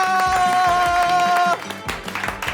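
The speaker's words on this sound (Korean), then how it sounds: "박수로 환영합니다." Studio audience and cast clapping to welcome a guest chef onto a variety show set, a short burst of close applause with a sustained musical tone underneath that cuts off midway, then scattered claps.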